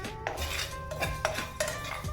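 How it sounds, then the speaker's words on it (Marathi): Coriander seeds dry roast in a pan while a utensil stirs them, giving a series of close metallic clinks and scrapes against the pan at an uneven rhythm. "धने छान भाजून घेऊया।"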